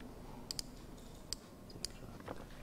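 Sharp, faint clicks of keys pressed on a computer keyboard, including the F9 key, come as a few isolated taps spaced irregularly over a quiet room tone.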